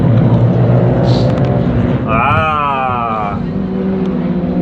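Renault Clio 5 Cup race cars pulling away on circuit for free practice, a loud continuous engine roar with a rising revving whine as one accelerates nearby, while a person exclaims briefly.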